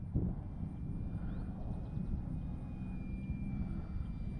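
Light aircraft engine droning steadily during a flaps-down landing approach in gusty wind, a continuous close propeller hum with faint tonal whine, no talk.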